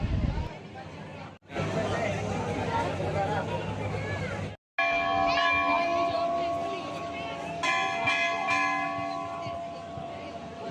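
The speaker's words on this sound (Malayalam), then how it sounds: "ഇവിടെ നമുക്ക് മണിയൊക്കെ അടിക്കാം." Temple bells ring at Kamakhya temple in Assam: sustained bright metallic tones, beginning after a brief gap, over a dense hubbub of crowd chatter and voices.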